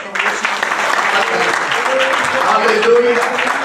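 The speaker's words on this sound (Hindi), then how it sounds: "जोरदार ताली बजाकर" Loud, continuous applause from a congregation at a Hindi-language church Easter service celebrating Jesus's resurrection. The clapping holds steady throughout, dense and close, with no break.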